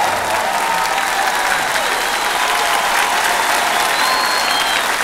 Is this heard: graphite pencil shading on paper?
no